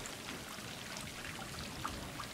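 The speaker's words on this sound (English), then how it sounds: "I love the sounds. Like the rain drops." Steady patter of raindrops in the video game Stray, a soft continuous hiss with scattered light drips and taps throughout, no voices.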